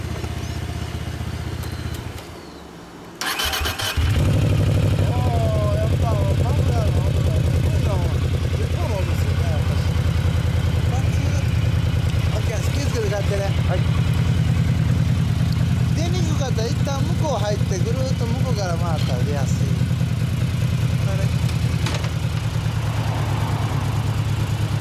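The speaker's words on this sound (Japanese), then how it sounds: "すみません、エンジン音聞かせてもらえますか。" A 2016 Yamaha VMAX motorcycle, a 60th Anniversary color model, runs steadily in a low, continuous engine drone after a brief pause near the start, with people talking over it.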